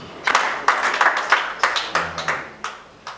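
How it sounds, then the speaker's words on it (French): Scattered applause from a small audience at an award ceremony honouring a doctor, a handful of distinct loud claps spaced irregularly, close by, with a brief murmur of voices. "Madame, vous pouvez vous lever, on peut vous applaudir aussi"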